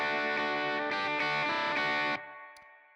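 Electric guitar chords played through a clean amp turned all the way up into overdrive, with a gritty, saturated tone, strummed several times, then a final chord left ringing and fading.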